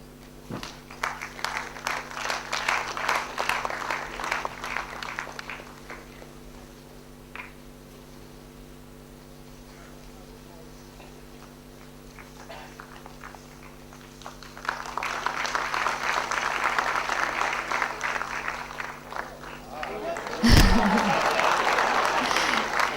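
An audience at a ceremony introducing international guests applauds in two sustained rounds separated by a quieter stretch, all over a steady electrical hum, with a sharp thump near the end.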